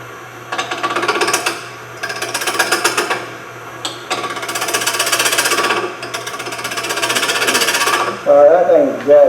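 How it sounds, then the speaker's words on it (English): Wood lathe spinning a palm workpiece while a spindle roughing gouge cuts it, giving bursts of rough, chattering scraping in several passes over a low steady motor hum, with a short knock between them. "Just going to go back to the spindle roughing gouge."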